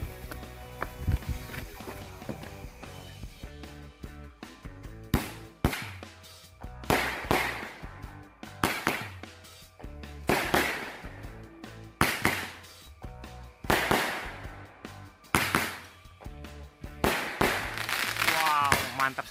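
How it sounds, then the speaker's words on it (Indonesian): Two eight-shot Roman Candle fireworks firing outdoors during Lebaran celebrations, a rapid series of sharp bangs and crackling pops in bursts roughly every second or two, loud and near, with people's voices in the background. "yang pertama kita nyalain 2 buah mercon Roman Candle 8 lesutan"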